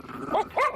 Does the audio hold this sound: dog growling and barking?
yes